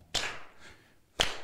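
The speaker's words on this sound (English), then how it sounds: "I want you to clap on two and four." Church congregation clapping together on the backbeat during Sunday worship, two sharp, spaced claps about a second apart with a faint murmur in between.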